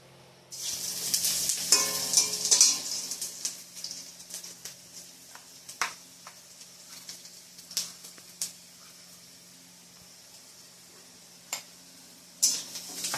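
Panch phoron, onion, bay leaf and dried chilli frying in hot oil in a home kitchen: a bright, hissing sizzle that flares loudly at first, then settles into quieter crackling with scattered sharp pops and clinks of stirring.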